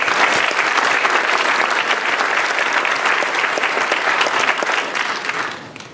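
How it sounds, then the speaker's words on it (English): A conference audience at the 2014 MnSearch Summit gives its volunteers a full, steady round of applause. The dense clapping stays loud for about six seconds before tapering slightly at the end. "So give them a round of applause, please."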